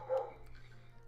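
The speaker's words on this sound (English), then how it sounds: "Don't mind the dog having the choir in the back." A dog barks once somewhere in the background of a room, a short muffled woof followed by a faint trailing whine over low steady hum.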